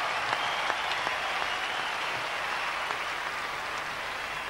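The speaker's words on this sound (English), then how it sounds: "Please give a rousing round of applause to Mr. Vijay Korea." A large stadium concert crowd applauds the master of ceremonies, a broad, steady wash of clapping heard from a distance with a few sharper individual claps standing out.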